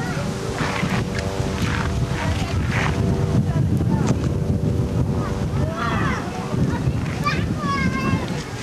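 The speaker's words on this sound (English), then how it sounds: "See where it's nice and breezy?" Gusty outdoor wind buffets the microphone near open water, with a boat and waves beneath the roar, while voices chatter over it throughout.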